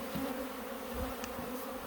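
Carniolan honey bee workers buzz in a dense, steady drone at an opened hive, a constant close hum with no pauses.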